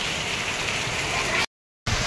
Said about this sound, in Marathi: खूप मस्त पाऊस पडतोय, छान पाऊस पडतोय एकदम।